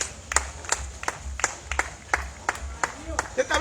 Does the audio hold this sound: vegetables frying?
no